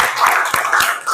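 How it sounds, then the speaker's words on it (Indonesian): Classmates clapping hands in a classroom, a short burst of several sharp, close claps in quick succession. "Beri tepuk tangan dulu untuk teman-temannya."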